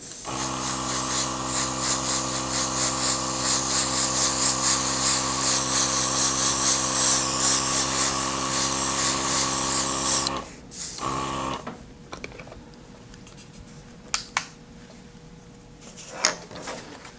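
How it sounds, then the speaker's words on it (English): An airbrush loaded with super red color sprays a decorated Valentine's cake, giving a steady, close mechanical buzz with an airy hiss for about ten seconds before it cuts off, followed by quiet room noise and a few faint clicks. "I'm just going to take some super red airbrush color in my airbrush, and you'll see how this totally transforms the look of this."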